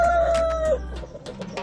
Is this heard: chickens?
yes